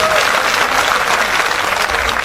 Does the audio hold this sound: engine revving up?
no